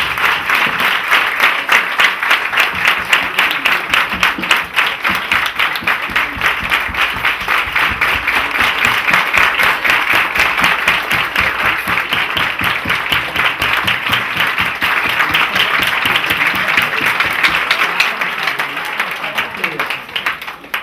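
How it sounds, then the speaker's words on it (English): A large audience stands and applauds an honoured woman at a Nigerian reading-campaign event, dense sustained clapping and cheering filling the hall evenly for about twenty seconds. "I want you all to stand up with me and to clap for"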